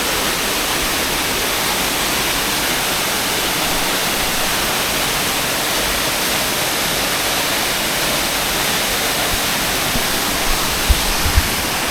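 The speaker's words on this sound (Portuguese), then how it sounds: "Tá aí, Cachoeira Mata o Velho." The Cachoeira Mata o Velho waterfall in Canela roars as a dense, steady hiss of falling water, loud and unbroken for the whole stretch, with a few faint thumps near the end.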